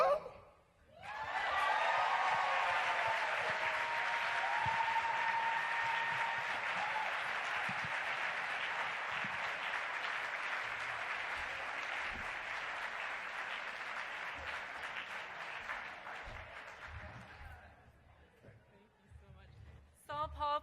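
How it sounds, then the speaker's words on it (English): A conference plenary audience applauds a musical performer, a dense sustained clapping that swells quickly, holds steady for most of its length, then fades into scattered claps and a few faint voices near the end. "One more round of applause."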